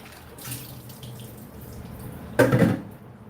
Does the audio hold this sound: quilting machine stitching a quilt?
no